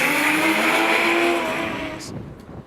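A drift car's engine screams at high revs on the Pukekohe Park Raceway track during pro-level drift qualifying, the loud sustained note fading as the car pulls away.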